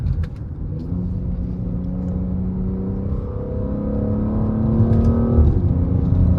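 A Mercedes-AMG GLC43 engine accelerating with a steady low grumble, its rumbling note rising gradually and growing louder toward the end, heard close and continuous with no talking.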